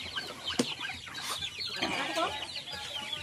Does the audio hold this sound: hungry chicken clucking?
yes